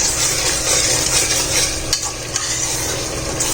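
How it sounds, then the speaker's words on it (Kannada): Masala for chicken biryani frying in a pan while being stirred, a loud, close, continuous sizzle with occasional spatula scrapes and no voices. "ಹಸಿ ವಾಸನೆ ಹೋಗೋ ತನಕ ಫ್ರೈ ಮಾಡಬೇಕು."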